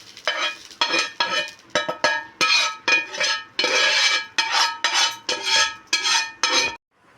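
Roasted ingredients scraped with a metal spoon from the pan onto a metal plate, a quick run of repeated ringing clinks and scrapes close up, ending in silence.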